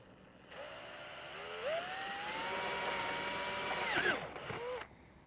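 A power drill boring into a caravan tank for fitting a diesel heater, starting up, whining steadily with rising pitch as it bites, then straining and stopping; loud and close, no talking.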